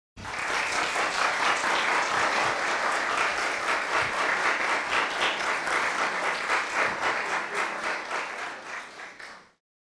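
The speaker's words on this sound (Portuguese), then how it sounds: "Obrigado pelas palmas, eu comecei a ficar preocupado." Sustained, dense applause from a lecture audience after a talk on nuclear magnetic resonance, loud and even with a faintly rhythmic pulse, fading out quickly at the end.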